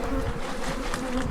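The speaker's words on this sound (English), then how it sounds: "These are bad bees." Bees buzzing close by, a steady insect drone that sits alone in a brief burst with no talking.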